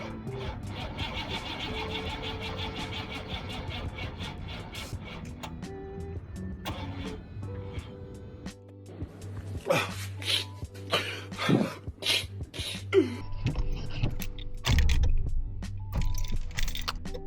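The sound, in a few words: 1984 Camaro Z28 engine cranking on a cold start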